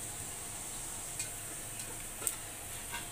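A tadka of cumin, mustard seeds, household masala and turmeric sizzling in hot oil for dal amti, giving a steady soft hiss with a few small pops and ticks.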